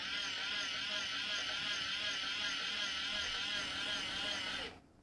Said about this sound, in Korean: 모터를 5초 동안 더 움직여줘